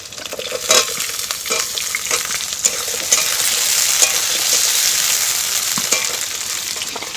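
Cut papaya and potato stir-fried for Bengali sukto, sizzling steadily and loudly in hot oil, with frequent scraping stirs of a spatula in the pan and no talk.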